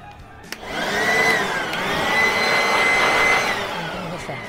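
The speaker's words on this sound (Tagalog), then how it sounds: "Leaf blower." A leaf blower whines steadily up close after a sharp click, its high motor pitch shifting slightly as it runs for several seconds.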